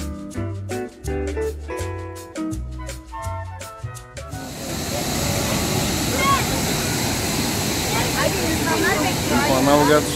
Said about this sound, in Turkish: Manavgat şelalesi de çıtır yani ama güzel. En azından sürekli akıyor.